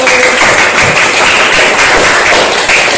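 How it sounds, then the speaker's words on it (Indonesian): Classroom applause for a student discussion group during a teaching assessment session: a dense, steady patter of clapping from a room of participants, loud and continuous throughout. "untuk semuanya tepuk tangan untuk kelompok 1"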